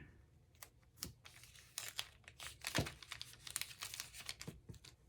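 Tape being handled and cut for a shaker card, faint crinkling and tearing rustles with scattered sharp ticks and snips, close and quiet, irregular.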